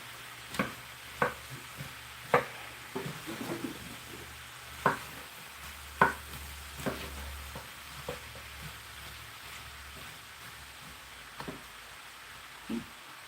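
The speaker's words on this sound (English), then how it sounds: "So we first just gonna let them fry here for about 2 minutes or so" Apple slices for an apple pie fry quietly in a pan, giving a soft, steady sizzle with scattered crisp pops and clicks of stirring spread across the stretch. No one speaks.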